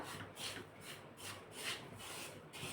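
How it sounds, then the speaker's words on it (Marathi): Semolina (rava) being dry-roasted in a pan for Khandeshi sanjori, a soft repeated scraping and stirring rasp in steady strokes, close and fairly quiet with no talking. "भाजून घ्यायचा थोडासा कलर चेंज होईपर्यंतच भाजायचा"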